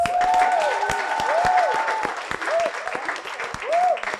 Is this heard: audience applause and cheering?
yes